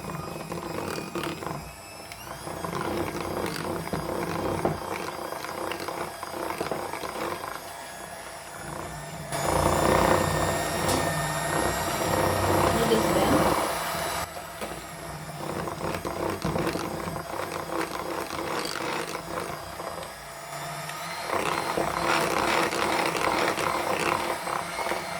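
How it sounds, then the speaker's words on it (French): Butter and sugar are whisked with an electric mixer for a raisin cake while egg and orange juice mixture goes in, a continuous whirring motor hum that rises and falls in intensity in bursts across the clip. "on va introduire le mélange d'œufs et de jus d'orange par cuillère à soupe tout en fouettant à chaque fois"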